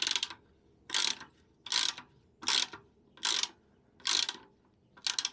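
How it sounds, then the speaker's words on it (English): A spanner ratchets on a nut on a Velosolex moped during a stripdown, seven sharp evenly spaced clicking bursts, close and alone. "let me get a spanner on the other side somehow, and then we get that off."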